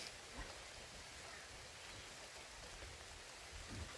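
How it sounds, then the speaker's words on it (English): Steady rain falls outdoors near a tree line with mountains beyond, a dense, even hiss of drops on surfaces that holds unbroken throughout with no voices. "I'm also being rained on as I'm recording this."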